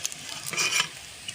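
Vegetarian chunks made to imitate goat fat fry and puff up in hot oil, a soft, steady sizzle with light stirring scrapes and a brief louder crackle in the middle.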